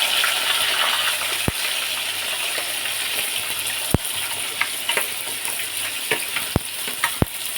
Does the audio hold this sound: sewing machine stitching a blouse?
no